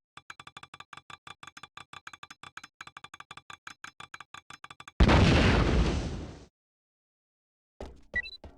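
A spider bomb explodes in a James Bond 007 video game, preceded by a rapid run of mechanical ticking steps, then a single loud burst that rumbles and cuts off abruptly, followed by brief game sounds.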